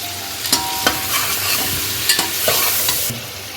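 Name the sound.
spices frying and being stirred in a pan for beef pulao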